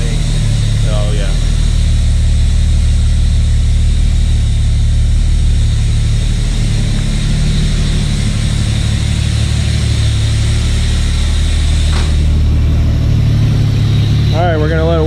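A Toyota Supra engine runs steadily while warming up, giving a loud, constant low rumble at idle with no clear revving, and a voice cuts in briefly near the end.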